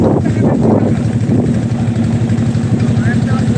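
A boat's engine drones steadily at close range on a river with eroding banks, a continuous low rumbling hum throughout.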